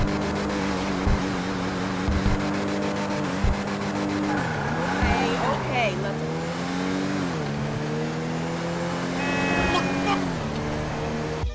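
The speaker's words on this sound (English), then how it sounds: "So here's how the car looks and how it sounds." A Cavalcade XL, a large SUV in GTA Online, drives with a steady engine drone that rises and falls through gear changes, with occasional tire squeal, loud and close throughout.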